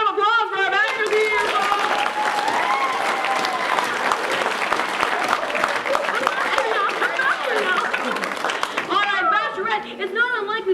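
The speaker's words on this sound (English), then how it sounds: "How about a big round of applause for our bachelors here?" An audience applauds bachelors at a dating-show style event: steady, dense clapping and cheering fill nearly the whole stretch, with voices talking at the start and end over the crowd.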